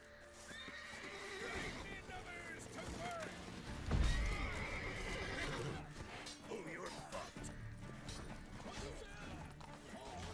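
A horse whinnies loudly several times over a busy soundscape in The Witcher 3: Wild Hunt, Blood and Wine expansion, with clopping hooves and metallic clatter throughout.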